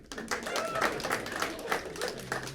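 A small comedy club audience in Seattle claps hands in a light, scattered burst that swells briefly, with voices murmuring underneath.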